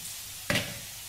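A pan sizzles softly while ingredients fry for a Spanish fish stew, with a brief louder hiss and clatter midway before settling back to a low, steady crackle.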